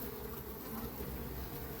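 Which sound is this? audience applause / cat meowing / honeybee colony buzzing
honeybee colony buzzing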